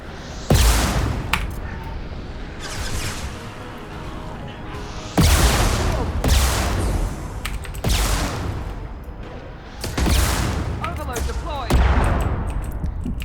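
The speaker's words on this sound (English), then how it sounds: "Oh, someone's shooting at me big time" Repeated bursts of gunfire aimed at the player in Mass Effect 2, loud and close, arriving in clustered volleys every second or two with brief lulls between.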